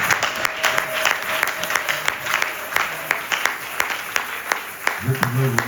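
A church congregation claps in a steady rhythmic beat during a worship service, the crowd's applause continuing throughout before a voice starts up near the end.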